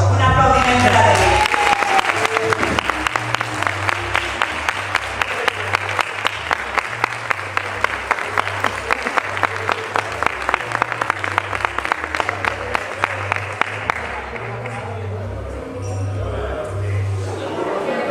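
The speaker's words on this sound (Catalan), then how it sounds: "Un aplaudiment per a ell." Diners at a fraternity lunch in Alzira clap in a long round of applause that settles into a steady, rhythmic unison beat, over a low hum, before tapering off near the end.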